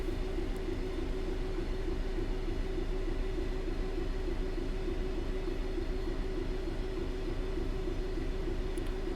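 A freight train runs on the Midland Main Line on the approach to Loughborough station in Train Sim World 3, giving a steady, even locomotive drone with a humming tone and rumble that never lets up, with no voices over it.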